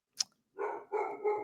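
Domestic dog barking faintly somewhere in the house, a short yip followed by three muffled barks in quick succession, with no talk over them.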